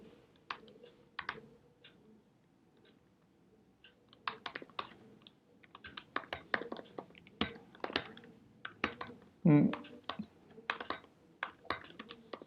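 Code typed on a computer keyboard during a live coding session, with close, quiet clusters of rapid key clicks arriving in irregular bursts and short pauses between them, and no talking.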